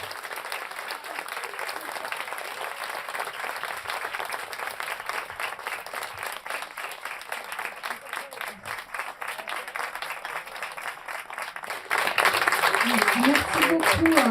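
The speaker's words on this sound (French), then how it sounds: "Merci de l'applaudir." Audience applause for the mayor after a bouquet of flowers is presented at a council meeting: a continuous wash of clapping from the room, growing louder near the end as voices join in.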